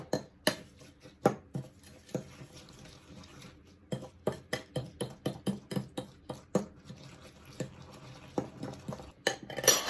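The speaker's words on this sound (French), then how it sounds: "je mélange tout ça ensemble et ça va faire une espèce de petite galette" An egg being mixed into a patty mixture in a bowl: repeated clinks and scrapes of a utensil against the bowl in an irregular rhythm, close and fairly quiet, with no talking.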